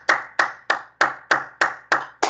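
A church congregation clapping in unison, sharp loud claps in a steady even rhythm of about three per second, eight in a row with no talking.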